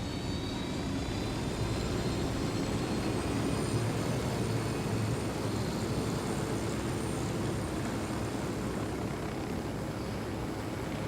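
Military helicopter in Bolivia with its engine and rotor running steadily at close range, a dense, continuous roar and whine filling the whole stretch without pause and with no talk over it.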